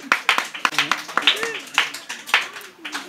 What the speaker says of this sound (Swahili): Wapigie makofi, wamekubali kulala hapa.